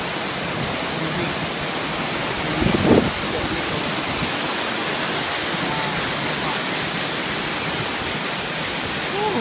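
Waterfall at the edge of Darbat with clean water cascading, a dense continuous roar filling the whole stretch, steady and close, with one brief louder knock partway through.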